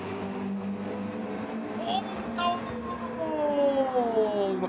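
Race cars in Gran Turismo 7 lapping Yas Marina during a six-hour endurance race, their engines droning steadily and a rising-then-falling whine marking a car sweeping past, with a voice talking over the racing.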